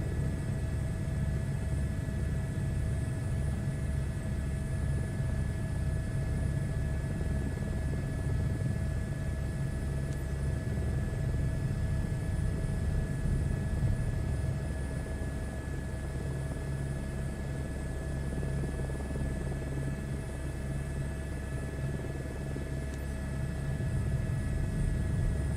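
A helicopter in Microsoft Flight Simulator 2024 gives a steady, close, droning rotor and engine hum with a sustained whine, unbroken and alone throughout.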